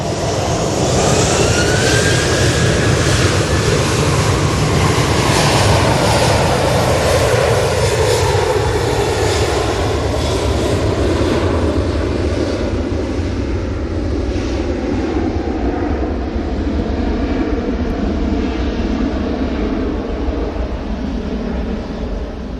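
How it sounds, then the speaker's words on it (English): A Jet2 airliner rolling for takeoff at Manchester Airport, a loud, continuous jet engine roar rising in power with a sweeping whine, heard clearly and without talk. "Ah, Jet 2's rolling."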